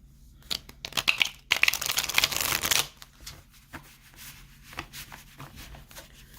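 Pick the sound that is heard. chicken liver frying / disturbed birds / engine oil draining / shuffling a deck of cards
shuffling a deck of cards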